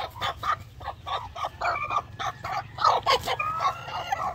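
An asil rooster on a farm, freshly bathed, gives a run of short, fairly close clucks and throaty calls in an irregular rhythm over a steady low background hum, with no one talking.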